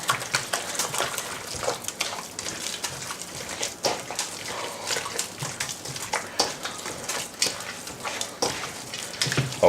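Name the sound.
mixing stuffing for pork braciole by hand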